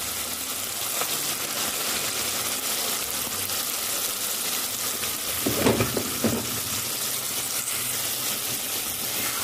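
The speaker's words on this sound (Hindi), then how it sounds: "अब इसमें चिकन डालूंगी और उसको भी 10 मिनट तक भून लूंगी।" Large chicken pieces sizzle in a pan with potatoes as they are sautéed, a steady close hiss running throughout, with a brief louder burst of crackling midway.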